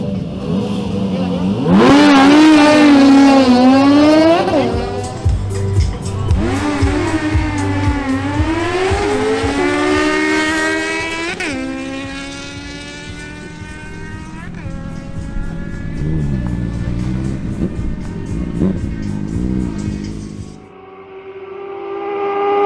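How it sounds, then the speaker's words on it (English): A Honda CBR650R and a Suzuki Bandit 650 scream down a drag strip, engines revving hard and climbing through repeated upshifts, loud and close before fading out, with a commentator speaking over the roar. "We begin with a duel between Nelson Camacho's Honda CBR650R and Fabian Moreno's Suzuki Bandit 650."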